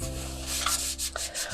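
A cloth rubs around the sides of an air fryer basket to clean off grease, giving a quiet, close scrubbing hiss in short repeated strokes with no talking.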